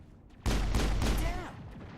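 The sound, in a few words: pistol gunfire in video game Mass Effect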